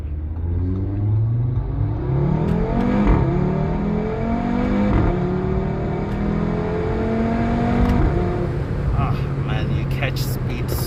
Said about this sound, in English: Oh man, that 5-cylinder motor is just to die for.